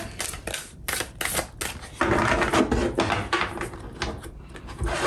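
Tarot cards are shuffled in quick, papery riffles and flicks, a series of close, crisp bursts with brief pauses between them.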